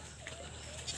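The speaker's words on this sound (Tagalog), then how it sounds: "Ayan, yung mga kambing natin." Goats in a goat pen bleat faintly in the distance over a low background hum.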